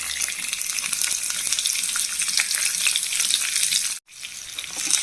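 Curry leaves and onion fry in hot oil in a pan with a loud, steady sizzle that drops out for a moment and then returns.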